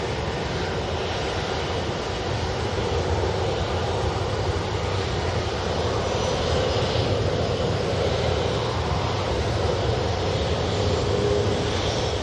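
A Hainan Airlines Airbus A330 jet engine roars steadily in the distance, a broad continuous rumble and hiss holding at even loudness throughout, with no voices.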